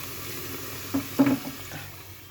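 Onions frying and being stirred in a pan for biryani: a low, steady sizzle with a couple of brief louder scraping stirs near the middle, close and fairly quiet, with no talk.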